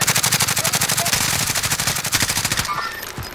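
Rapid automatic gunfire in Call of Duty Warzone, a close, loud, evenly spaced stream of shots that stops abruptly near the end.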